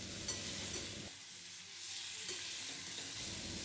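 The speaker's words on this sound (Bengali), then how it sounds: "আমগুলো দেওয়া হয়ে গেলে 2-3 মিনিট একটু কষিয়ে নেব।" Mango pieces sautéed lightly in a pan: a steady, fairly faint sizzle holds throughout with a few soft scrapes of stirring, and the low background drops away after the first second.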